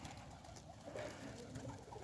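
Kept pigeons coo softly in a short, quiet burst of low, rolling calls with a faint background hum.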